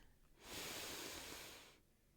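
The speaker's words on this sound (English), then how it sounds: "Deep breath in." A single deep inhalation, soft and close, swelling over about a second and a half and then fading back to quiet, with no talking.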